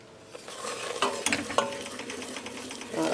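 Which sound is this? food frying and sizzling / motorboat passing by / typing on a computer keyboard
food frying and sizzling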